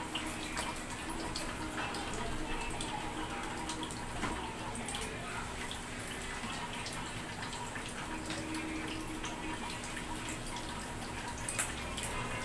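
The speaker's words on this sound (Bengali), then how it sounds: "গরম হয়ে গেছে তেলটা, এটা প্রচণ্ড ফাটে।" Hot mustard oil crackles and spits steadily as potol and fish-roe patties fry in a pan, a dense continuous sizzle with scattered sharper pops throughout.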